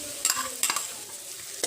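Jaggery added to hot oil with cumin in a wok and stirred: a soft sizzle with a few quick scraping stirs close by, no voices.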